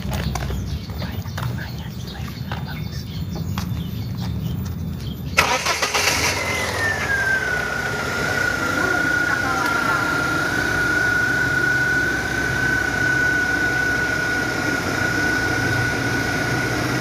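A BMW 1.8-liter naturally aspirated engine cranks briefly with a sharp catch, then settles into a steady, even idle hum that carries on unbroken for over ten seconds.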